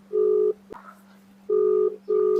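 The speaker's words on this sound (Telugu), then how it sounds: "మళ్ళీ రింగ్ అవుతుంది." A ringback tone on speakerphone: two steady buzzy tones repeating in a regular pulse, clear and fairly close, with short silent gaps between rings.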